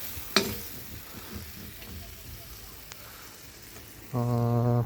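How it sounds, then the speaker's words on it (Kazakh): Carrots frying and being stirred in a pot for Tashkent-style chaikhana plov, a steady soft sizzle with scraping stirs and one sharp clink near the start, then a louder steady hum joining at the end. "Сәбізінде жақсылап 10 минут, 5 минуттей қуырамыз."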